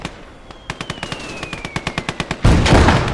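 Incoming mortar fire in the video game Blood Red Snow, heard as a rapid loud string of sharp cracking blasts with a faint descending whistle overhead, ending in a heavy roaring burst.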